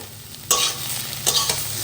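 Potato and egg frying in a pan, seasoned with chopped ginger and pepper, hiss with a steady sizzle while a utensil stirs and scrapes in a few distinct strokes, near and clear with no talking.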